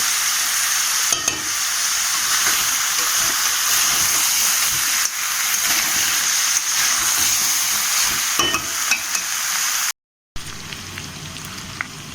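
Crab curry sizzling and frying in a pan while being stirred, a steady loud hiss with intermittent scraping strokes, briefly cut out near the end before resuming.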